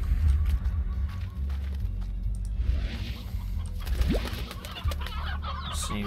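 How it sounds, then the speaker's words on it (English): Several chickens in the video game Slime Rancher cluck and murmur close by, with scattered squawks over a low background rumble. "we need some more chickens for these guys over here"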